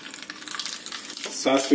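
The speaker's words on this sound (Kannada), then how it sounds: "ಎಣ್ಣೆ ಕಾಯ್ತಾ ಇದ್ದ ಹಾಗೆ ಅರ್ಧ ಟೀ ಸ್ಪೂನ್ ಅಷ್ಟು ಸಾಸಿವೆ" Mustard seeds splutter in hot oil for a tempering for temple-style curd rice, a soft crackling sizzle that swells louder and denser over the final half second.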